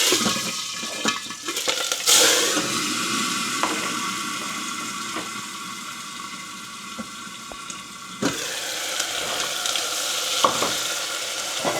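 Green chillies dropped into hot oil with asafoetida, a steady close sizzle and hiss of frying with a brief sharp burst near the start and a few light clinks, no talking.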